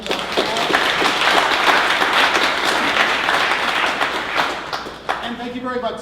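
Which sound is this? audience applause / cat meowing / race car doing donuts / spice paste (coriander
audience applause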